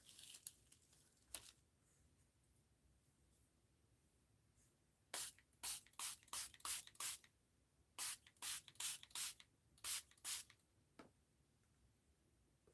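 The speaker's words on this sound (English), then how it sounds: "spraying it again." Small spritzer bottle spraying a thin, alcohol-heavy marigold and walnut ink mixture, heard as a brief early puff then about a dozen short, close hissing bursts in quick groups, with no talking.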